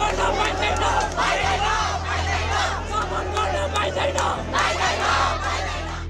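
Crowd of students in school uniforms marching toward Nepal's parliament in Kathmandu, waving flags and placards against corruption and censorship, raising loud overlapping shouts and chants in a dense, continuous roar.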